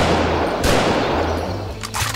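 XM-21 rifle fire in the VietDoom mod for Doom: a few loud, isolated shots with booming tails over a constant low rumble, spaced irregularly across two seconds, with no one speaking.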